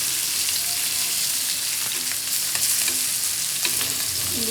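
Hilsa fish frying lightly in a pan, a close, steady crackling sizzle with occasional pops and stirring scrapes, no talking.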